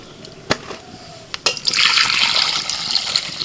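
Water runs into a cooking pot holding washed eggs about to be boiled in a home kitchen. A couple of sharp knocks come first, then a steady, fairly close rush of pouring water fills the rest, with no talking.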